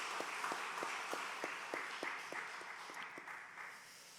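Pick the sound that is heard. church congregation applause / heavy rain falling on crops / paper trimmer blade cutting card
church congregation applause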